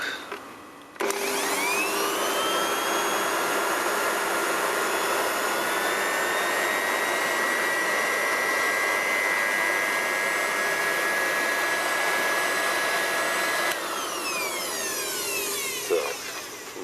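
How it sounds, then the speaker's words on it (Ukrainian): An electric blower, a hair-dryer-style heat gun running on power from a Ritar RISW 2500D UPS, whirs steadily and loudly for most of the stretch, starting abruptly and changing pitch before it winds down near the end. "будемо перевіряти ось цією вітродуйкою"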